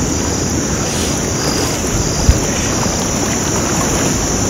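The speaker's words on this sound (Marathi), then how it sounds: "नदीतील पाणी किती प्रचंड वेगाने वाहतं आणि किती स्वच्छ आहे." The fast, swollen Bhima river rushes past in a constant broad roar of water, loud and unbroken, with no voices over it.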